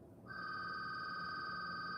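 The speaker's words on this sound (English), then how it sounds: "Oh, there's the phone." Telephone ringing indoors during a wire-weaving session, a sudden steady electronic trill that begins after a quiet moment and holds continuously, fairly loud over faint room noise.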